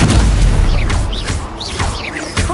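Confringo, an explosive spell in Hogwarts Legacy, bursts with loud booming blasts amid crackling magical whooshes and rising tonal sweeps, a rapid string of detonations close up.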